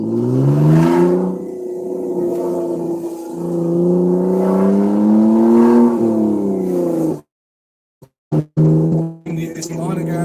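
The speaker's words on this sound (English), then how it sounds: "making sure the windows are down for this exhaust sound again" A BMW car's exhaust heard while driving with the windows down, a loud engine drone whose pitch rises and falls with revving over about seven seconds, then cuts out abruptly, followed by brief bursts of sound.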